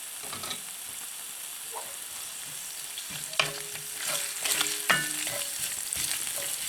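Ginger fries in hot oil with a constant close sizzle while a utensil stirs it, adding scattered scrapes and taps that cluster toward the middle, with faint tonal sounds in the background.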